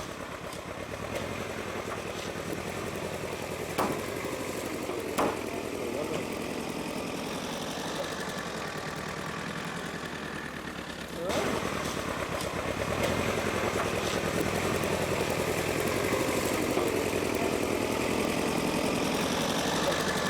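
A tractor engine runs continuously at a low, rough idle, then rises to a louder, harsher working pitch about halfway through, at a moderate distance and with no voices, along a remote road in Bolivia.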